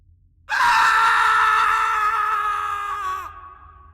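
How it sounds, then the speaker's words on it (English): A single long, loud human scream of defiance and rage, starting abruptly, holding strong for about three seconds, then breaking off into a fading tail, with no talking. "I screamed with everything I had left, pouring all my rage and will to live into one single shout."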